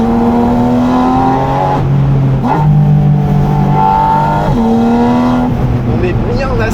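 A Porsche 718 Spyder RS accelerates hard, its engine note climbing steadily in loud, continuous pulls that drop sharply at two gear changes before rising again.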